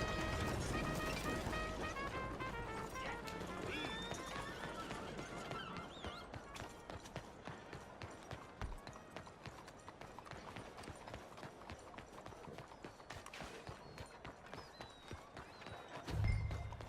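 In the video game Red Dead Redemption 2, a horse's hooves clip-clop at a quick gallop. The hoofbeats are dense and close, with a burst of music or tack noise at the start and a thump near the end.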